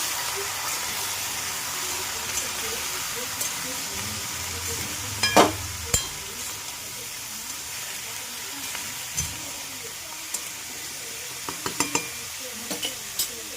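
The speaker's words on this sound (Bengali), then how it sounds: "এবার সবজিটাকে নাড়িয়ে নেবেন" Vegetables frying in a pan with asafoetida are stirred, giving a steady close sizzle with scattered scraping clinks of the spoon against the pan, a sharper burst of stirring noise partway through.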